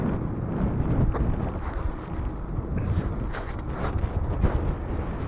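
Wind blows steadily during an outdoor bike ride on a pretty but windy day, a constant low buffeting roar rushing across the microphone, loud and unbroken with no talk.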